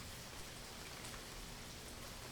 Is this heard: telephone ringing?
no